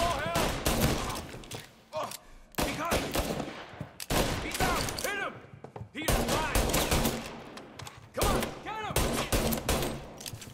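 Rapid, loud automatic gunfire in the video game Mafia: Definitive Edition, sustained bursts broken by brief gaps, with voices talking over the shooting.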